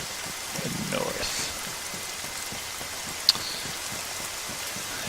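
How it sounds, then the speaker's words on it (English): Steady rain falls outdoors, a continuous broadband hiss with scattered drop patter and one brief sharp tick, moderately loud and unbroken throughout. "And it's raining, of course, so that's great."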